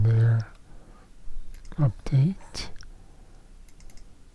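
Sharp computer mouse clicks sound close up while someone works through a Power Automate flow for Power BI, scattered between short stretches of a person speaking.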